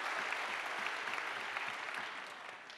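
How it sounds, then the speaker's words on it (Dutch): Audience at a school award ceremony clapping, a thick, continuous wash of applause that holds steady and then tapers slightly toward the end, with no speech over it. "Applaus voor deze scholen"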